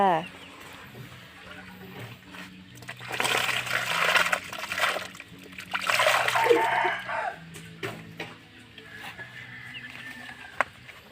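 Eel being washed by hand in a basin of water, with sloshing and splashing bursts that rise and fall, under a voice talking nearby.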